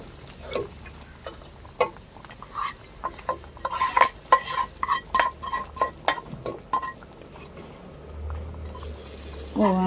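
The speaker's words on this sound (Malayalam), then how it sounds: "ഇനി നമുക്ക് പരിപ്പിലോട്ട് ഒഴിക്കാം." Fried drumstick leaves are poured into a pot of lentil curry and stirred, with a rapid series of close clinks and scrapes of a spoon against the pot, then a rising hiss of sizzling at the end.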